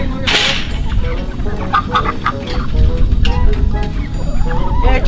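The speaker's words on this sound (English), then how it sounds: "The chickens got out somehow, and now we're trying to chase them back" Loose chickens clucking outdoors while people chase them back toward their enclosure, a busy overlapping mix of bird calls with faint talk underneath and steady background noise.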